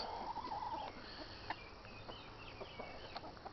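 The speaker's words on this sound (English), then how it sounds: "Just out here with the chickens." Soft, scattered clucks from chickens outdoors over a steady rustling background, faint and a little distant, with no talking.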